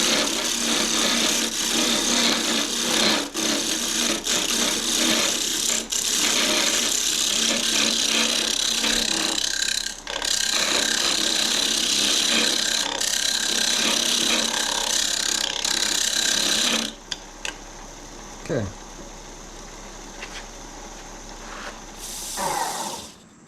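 A mesquite hollow form being smoothed on a woodturning lathe gives a steady, loud, abrasive rasping that runs continuously for about seventeen seconds, then stops, leaving a much quieter tail with small knocks.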